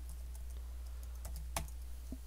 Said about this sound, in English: We do that by typing cd sdk/tools.